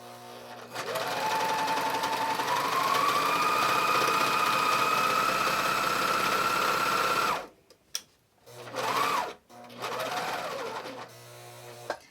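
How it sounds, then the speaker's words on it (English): A serger sews fabric with its cutting blade trimming the edge, giving a steady, fast mechanical whir for several seconds. The machine then stops and restarts in short bursts. "I've butted the fabric right up against the cutting blade of the serger"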